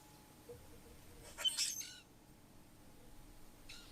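A bird gives a short, harsh call, then a fainter second call a couple of seconds later, over quiet background hiss.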